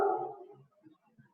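A dog gives one short bark up close at the start, followed by a few faint, scattered yips or whimpers in a quiet indoor setting.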